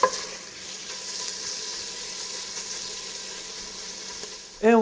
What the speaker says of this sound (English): we are going to cook down our bacon